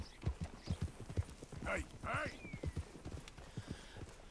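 Horse hooves clip-clop at a steady walking rhythm in the open-world western game Red Dead Redemption 2, close and distinct, while someone shouts briefly and a horse whinnies midway.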